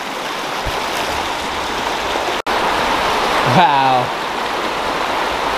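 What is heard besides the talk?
rapids of a stream in a Zion canyon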